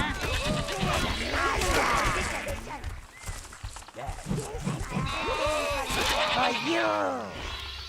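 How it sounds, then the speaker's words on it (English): Sheep bleat repeatedly inside the Overlord video game, their wavering cries rising over a busy game soundscape while a voice talks throughout. "I hear the bleating of lesser creatures"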